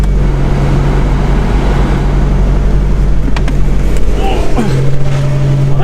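A car engine idling and warming up after a new catalytic converter was fitted, a loud, steady low hum with a constant tone, up close and unbroken, with no talk.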